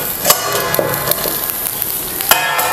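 Sabudana pearls roasting in a covered pan over steam give a steady close crackle and sizzle, with a few sharper pops and clicks scattered across it.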